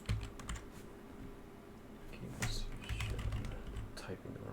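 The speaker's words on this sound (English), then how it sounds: "typing the wrong thing" Typing on a computer keyboard, soft rapid key clicks and clatters in irregular bursts, fairly quiet and close, with a voice speaking over them.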